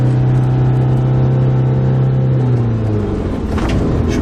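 A car engine drones loud and close in second gear on a steep 20% descent in Turkey, a steady high-revving hum that shifts pitch slightly near the end, with no talking.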